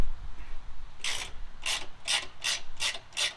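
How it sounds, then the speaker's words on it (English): A ratchet with a 1/2-inch socket loosening tight seat bolts on a Kubota Z-421 mower, a quiet start then five or six sharp rasping clicks in a steady rhythm, close and distinct. "We'll use our 1/2-inch socket here to go ahead and pop"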